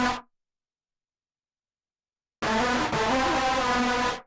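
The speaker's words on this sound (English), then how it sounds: "and then there's also another disturbing lead preset, which sounds like this." Disturbing synth lead preset in a dark pop metal production: a brief tail, then nearly two seconds of silence before a bright, dense, buzzing sustained tone swells in and holds steadily for about two seconds, fairly quiet overall.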